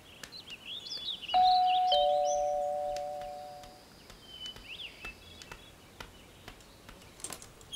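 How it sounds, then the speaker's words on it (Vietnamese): A doorbell gives a single clear two-tone ding-dong at a house entrance and fades over a couple of seconds, with faint birds and insects chirping outdoors around it. "Để ta bấm chuông thử."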